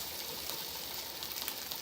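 Salmon seasoned with Old Bay, seasoned salt, onion powder and garlic powder sizzles while frying, giving a steady, fine crackling hiss at a low level with no voices over it.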